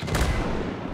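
Mortar fire booms in the World War II game Gates of Hell Ostfront, a single deep, loud blast with a rolling low rumble filling the short moment.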